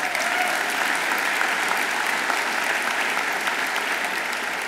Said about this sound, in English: someone who deserves an even bigger round of applause, Marcel Leahy, longtime supporter.